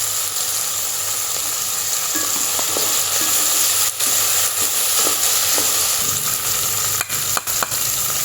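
Curry leaves crackle and sizzle in hot oil on a stove, a steady broadband frying hiss with a few sharp spits and pops, close and continuous, with no talking.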